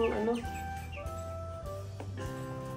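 Young 45-day-old chicks cluck and peep close by in steady overlapping calls, a low continuous chorus with bright chirps at the start.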